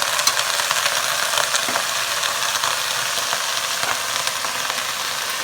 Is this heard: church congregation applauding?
no